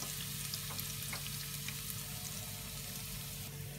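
Chopped ginger and garlic fry in oil in a pan for chilli chicken, a continuous close sizzle with a few faint stirring scrapes and no talk.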